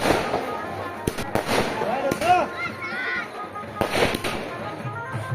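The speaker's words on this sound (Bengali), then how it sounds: "দেখো এখন চলছে আতশবাজি ফাটানো।" At a Kali temple puja, fireworks and firecrackers go off in sharp bangs and cracks, some with whistling rises, spread irregularly across the moment while people talk and call out nearby.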